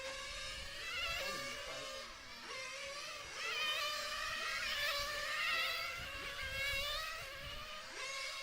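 Race car engine from an A-final race, a steady high-pitched buzz with a rising and falling whine as it circles the track, fairly distant and continuous.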